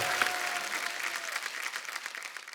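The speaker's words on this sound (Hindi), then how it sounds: "इनके लिए जोरदार तालियां हो जाए।" Studio audience at a Hindi comedy talk show breaks into dense, steady applause, loud and sustained throughout with a faint crowd murmur, no voices on top.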